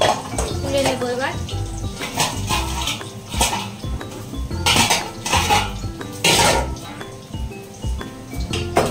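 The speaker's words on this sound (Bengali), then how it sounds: "আলুটা ভাজা হয়ে গেছে, তুলে নেব এবার।" Fried potatoes being lifted out of a pan in a home kitchen, repeated metal spatula scrapes and clinks against the pan, close and fairly loud, with a voice speaking at times.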